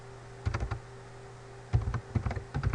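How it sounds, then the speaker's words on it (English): Close computer keyboard typing in short bursts of quick key clicks separated by pauses, over a faint steady hum. "keep reading until they type in quit"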